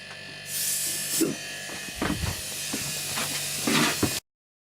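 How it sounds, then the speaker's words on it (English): A small air compressor with an extra tank releases short, sharp blasts of hissing air, one at the start and one near the end, with a person talking in between. "It's worked out to be a bloody good little air compressor."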